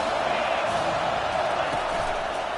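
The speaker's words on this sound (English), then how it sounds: "Decibels rising as the crowd gets behind this defense on third down." Football stadium crowd roaring steadily for the home defense on a third-down play at a college game, a dense sustained wash of cheering with no breaks.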